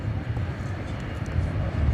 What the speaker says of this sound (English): Plane going over the bridge.